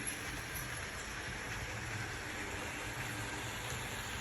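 A model train locomotive running around its track gives a steady, faint rolling hum and hiss, continuous and even throughout with no voices.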